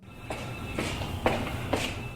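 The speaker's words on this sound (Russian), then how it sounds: "шаги" Four evenly spaced footsteps over a steady background hiss, each step a soft thud spaced about half a second apart.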